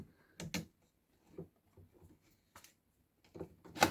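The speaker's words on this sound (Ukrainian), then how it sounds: "Ось, воно щелкнуло, значить зафіксувалось" A drawer of a transformer baby cot is pushed into its grooves, giving several soft wooden knocks and clicks at close range, with a sharper snap at the end.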